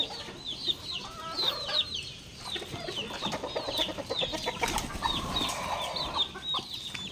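Backyard chickens cluck and chirp in repeated short calls, close by, with rustling and occasional wing movement underneath; no voices.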